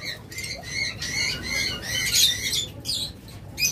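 A breeding pair of green-cheeked conures gives shrill, rasping squawks and chirps in quick repeated bursts. The calls sound close and fairly loud, with brief gaps between them and no talking.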